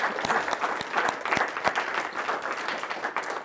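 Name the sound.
audience applause for panelists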